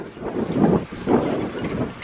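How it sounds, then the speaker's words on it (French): Strong, gusty wind near the water in Ireland roars and buffets the microphone in low rumbling surges that rise and fall, with no voices. "dès que tu t'approches de l'eau, il y a de plus en plus de vent et là ça commence à vraiment souffler"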